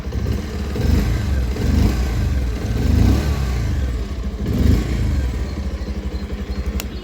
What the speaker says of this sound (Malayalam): ഇതാണ് ഈ ഒരു വാഹനത്തിന് എഞ്ചിൻ നോട്ട് വരുന്നത്.